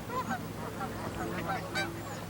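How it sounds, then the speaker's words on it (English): A flock of Canada geese honks repeatedly at a moderate distance, the overlapping calls rising and falling over a steady low background hum. "There's a flock of Canada geese right now."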